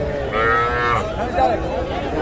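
Cattle at the Kaharol market where young bulls and heifer calves are sold: a drawn-out moo, then a shorter second low call, nearby and fairly loud, over a murmur of voices.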